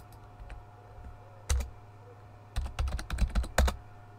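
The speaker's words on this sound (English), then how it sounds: "I'm literally typing in the chat on my other account." Typing on a computer keyboard, close and fairly quiet: scattered single key clicks, then quick bursts of rapid keystrokes in uneven rhythm against a faint background hum.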